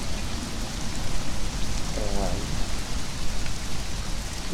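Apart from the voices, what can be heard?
rain falling in the video game Conan Exiles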